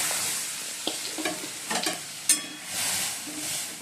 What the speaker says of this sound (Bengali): ডালটা ফোড়ন দেবো।